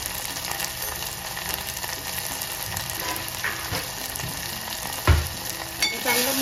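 Vegetables and spices, including turmeric, asafoetida and tomato for a drumstick-pod curry, sizzle steadily in a pan while being stirred, with a few scraping clatters of the spoon near the end.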